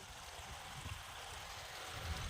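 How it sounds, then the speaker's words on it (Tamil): Water rushes steadily along a channel, a constant faint broadband hiss with a soft low gurgle underneath. "வாய்க்காலில் தண்ணி போகுது."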